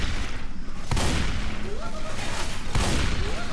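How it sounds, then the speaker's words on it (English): Rapid bursts of modded Nerf gun fire in Left 4 Dead 2, a loud, dense volley of sharp shots with a couple of heavier booms, continuous through the moment. "Taste my Nerf darts!"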